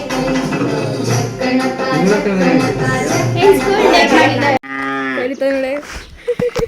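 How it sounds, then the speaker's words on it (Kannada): Cows moo loudly and repeatedly at close range, long drawn-out low calls filling the clip, with a few shorter calls near the end. "ಇಲ್ಲೆರಡು ದನಗಳು ಹೋಗ್ತಾ ಇದೆ"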